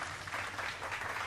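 Steady, dense applause from a gathered audience, an even wash of clapping hands sustained throughout without any voices.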